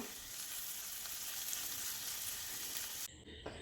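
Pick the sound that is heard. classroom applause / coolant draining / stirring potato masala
stirring potato masala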